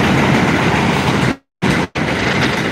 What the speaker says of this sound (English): Yo, hold on, train going by.